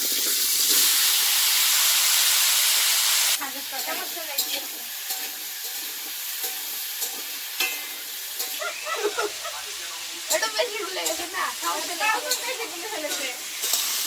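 Potatoes and vegetables sizzle loudly in hot oil in a wok, starting with a steady roaring hiss, then crackling and spattering under a stirring spatula as someone talks over the cooking.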